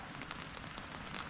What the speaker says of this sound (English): it actually just started to rain and thunder